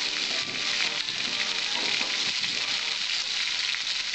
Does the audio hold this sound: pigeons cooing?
no